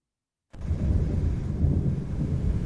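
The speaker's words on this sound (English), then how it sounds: "You can definitely tell the lightning frequency has been increased a little bit." Low rumbling thunder from a lightning storm in the Roblox game Twisted, kicking in abruptly after a half-second of silence and rolling steadily loud and deep to the end, with no talk.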